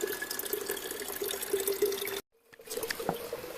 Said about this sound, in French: il y a une petite source là. L'eau est directement potable, pas besoin de micro-purée. Donc voilà, on prend l'eau directement